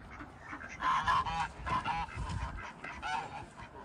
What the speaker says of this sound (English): I think those are wood ducks?